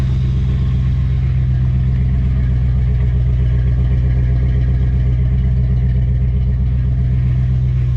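A 1994 Chevrolet Caprice engine idling steadily and loudly up close, a deep rough rumble with a fast even pulse that holds constant throughout, alone with no talking.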